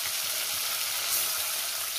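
Tengra fish fry in hot oil in a pan, giving a dense, continuous sizzling hiss, close and steady, with no voices.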